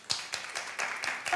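A studio audience at a talk show about the Monica Lewinsky scandal breaks into scattered clapping, a few sharp claps building into looser, moderate applause across the room, with some background noise beneath.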